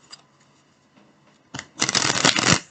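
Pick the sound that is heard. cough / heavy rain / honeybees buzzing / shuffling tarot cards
shuffling tarot cards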